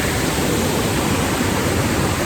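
Near Nuwara Eliya, a waterfall roars in a dense, steady rush of falling water, loud and unbroken throughout.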